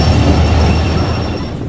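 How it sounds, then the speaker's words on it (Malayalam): A train pulls into Angadipuram railway station with a steady, loud rumble and a thin high whine from the wheels, continuous and close by. "നമ്മൾ ട്രെയിൻ വരുന്നുണ്ട്."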